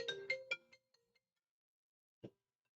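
Phone ringtone chiming: a short run of bright repeated electronic tones that trail off, then silence and one last brief blip, clear and close with no talk.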